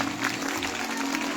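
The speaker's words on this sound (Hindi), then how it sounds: "एक बार जोरदार तालियों की सेवा चाहते हैं" An audience at a Ram Katha religious discourse applauds loudly. The clapping is a dense, continuous wash that fills the space evenly without a break.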